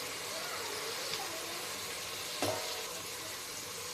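Onion frying in an open pan for chicken pulao: a steady, moderately loud sizzle runs throughout, with a brief louder clatter from stirring partway through.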